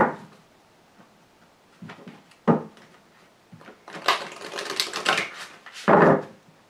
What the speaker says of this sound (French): Je vais trier les cartes.